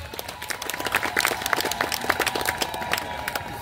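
Attendees at a large community gathering at Nrusinghnath, Paikmal, clap in a loose, uneven patter of distinct individual claps. The sound is moderately quiet and sparse rather than a dense roar, and runs for several seconds.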